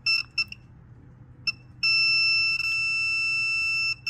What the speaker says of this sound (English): I have a voltmeter here to check for continuity.